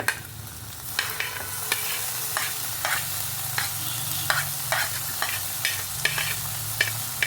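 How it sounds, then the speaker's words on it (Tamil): Onion and tomato sautéing in a pan for paneer dosa filling, stirred with repeated spoon scrapes over a steady close sizzle, with no talk. "இப்போ வெங்காயம் நல்லா வதங்கிடுச்சு நெக்ஸ்ட் வந்து தக்காளி ஆட் பண்ணுறேன்"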